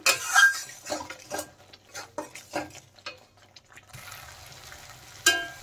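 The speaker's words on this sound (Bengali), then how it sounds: "এই সব মশলাগুলো ভালোভাবে কষিয়ে নেব এখন নেড়ে চেড়ে" Spices with green chillies and coriander powder are stirred and sautéed in a pan, giving a series of scraping, clinking stir strokes over a light sizzle. The strokes are close and irregular, with no talking.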